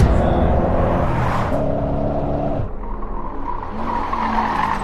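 A 240SS project car brakes hard, its tires skidding and squealing over a steady loud engine and road rumble, the noise shifting partway through and continuing without pause.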